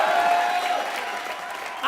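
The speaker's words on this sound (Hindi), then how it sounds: "जोरदार तालियां हो जाएं भारती और सिद्धार्थ के लिए।" Studio audience at a comedy show applauds, a short, loud wash of clapping and crowd noise that fades slightly before a new sound rises at the very end.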